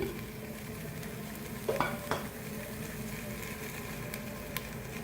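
Steady, quiet sizzling of minced meat and onions frying in a pan, broken by a couple of brief stirring scrapes.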